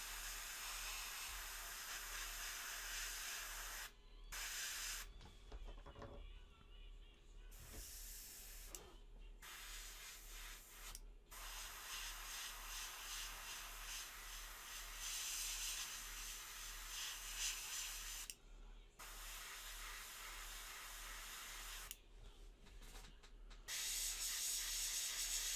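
Airbrush spraying old paint that may be clogging the nozzle, a steady hiss broken by several abrupt stops and restarts as the trigger is released and pressed again.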